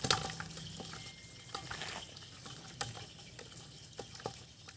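Washed tawa fish (kal meen) is tossed and mixed with masala in a kitchen bowl. Soft wet squelches and light pattering slaps come at irregular intervals, close by and fairly quiet.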